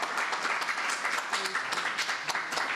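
An audience greets a speaker at an evening poetry program with sustained, dense applause, many hands clapping close and loud throughout.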